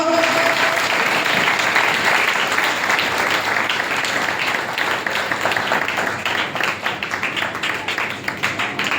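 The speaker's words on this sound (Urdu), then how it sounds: "اپنے خدا کے لیے تالی بجائیں زور سے" A church audience claps loudly for God during a sermon, a thick, sustained roar of many hands beating together close by, thinning slightly toward the end, with a faint voice briefly audible early on.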